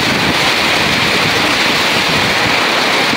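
Very heavy rain pours down at a pigeon loft, a dense, steady, loud hiss that stays close and unbroken throughout with no voices.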